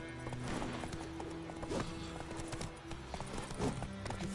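A horse in a video game gallops with a rhythmic, continuous clip-clop of hooves, close and fairly loud, joined by a whinny, with brief voices over the hoofbeats.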